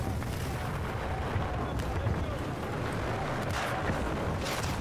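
Gunfire and explosions in Battlefield 4 on the Valkyrie, a dense, continuous wash of booming shots and rumbling blasts with a few sharper cracks, with speech mixed into the din.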